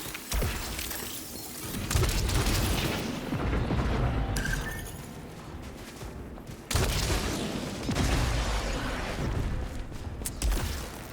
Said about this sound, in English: Primary explosions generate homing flares that seek out additional targets.